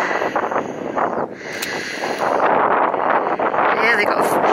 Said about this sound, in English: they got a fair bit of wind, so they'll be able to tack to the wind today